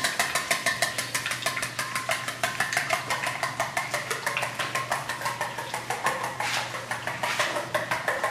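Rapid, steady clinking of a whisk beating eggs against a bowl, close and rhythmic, with a faint background hum.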